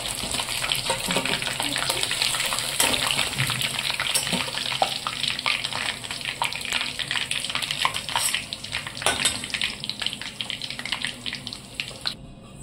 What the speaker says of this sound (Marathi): चांगलं एकदम कडक होईपर्यंत तळायचं।